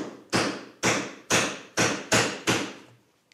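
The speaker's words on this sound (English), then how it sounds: "I'm going to start by removing the waste in the center and keeping the chisel nice and vertical" Six evenly spaced, sharp mallet-driven chisel strikes chop out the waste wood in the center of a joint for a Shaker wall cabinet, each blow close and loud with a short decay.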